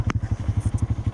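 Honda Grom motorcycle running during a test ride, with the engine throbbing in a steady, rapid run of close low pulses and a light clatter on top, and no talking.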